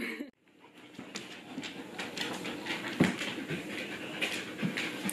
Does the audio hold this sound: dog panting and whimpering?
yes